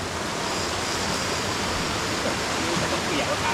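Loud, continuous rushing of a mountain stream flowing toward Doi Thule waterfall, close by, a dense steady roar like water tumbling over rocks.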